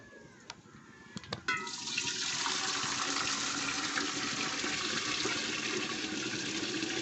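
Water gushes steadily into a cooking pot set on a clay stove for rice, after a few clanks of the pot, filling loud and close for several seconds.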